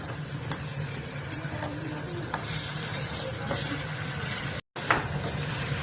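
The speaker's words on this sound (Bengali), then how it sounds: "মাংসটা অ্যাড করে দিলাম, তারপরে একটু কষে নেবো।" Meat added to hot oil with onions sizzles and crackles steadily in a pan, a continuous frying hiss broken by a few stirring scrapes and a brief dropout near the end.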